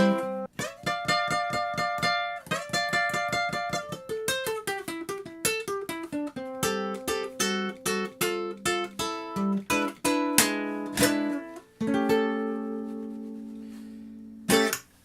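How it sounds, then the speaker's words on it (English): An electric ukulele played through an amp, bright plucked notes and strummed chords ringing clearly in a melodic run, with a few sustained chords toward the end. "this is the sound of the ukulele just plugged in, nothing but the amp."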